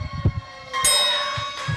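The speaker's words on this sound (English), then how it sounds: "Referee calls for the bell and gets it." A ring bell clangs at the start of a tag team title match at a Southern All Star Wrestling TV event, one bright metallic strike that rings out and decays over faint arena noise.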